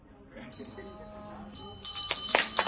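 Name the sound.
bell ringing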